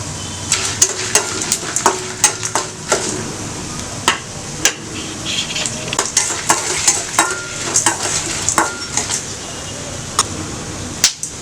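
Dried red chillies go into hot oil for rasam, crackling and sizzling loudly up close while a utensil clinks and scrapes against the pan in frequent, irregular stirring strokes.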